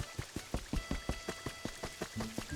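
Rain falls in the Pokémon Pokopia video game as a steady, close patter of drops landing in quick, fairly even taps on a surface, with no one talking.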